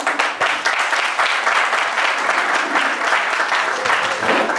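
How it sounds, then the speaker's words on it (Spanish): Steady applause from a seated audience at an olive-growing conference, greeting a young farmer as he comes up to speak; dense, continuous clapping fills the room for several seconds at even loudness. "Un fuerte aplauso."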